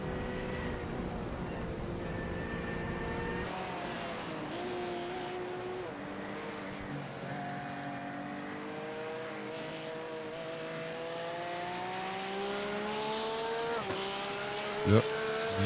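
Race cars in a sim racing game at Suzuka, among them a Mercedes, whine through gear changes with rising and falling engine pitch and a brief tire squeal near the end, under French race commentary.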